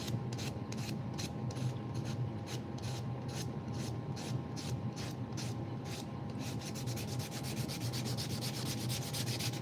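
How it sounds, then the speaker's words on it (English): Fast, even strokes of 220-grit sandpaper rub back and forth in a continuous rhythmic scratch close to the listener, over a faint steady hum, with no talking. "Now we just got one more sand to do with the 220."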